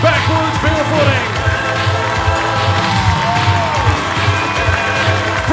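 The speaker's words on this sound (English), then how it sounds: "Cheer her on because she can hear you out there, folks." Crowd cheering for a barefoot water skier skiing backwards at a water ski show, with whoops and shouts rising over a steady background roar while an announcer's voice carries over the top.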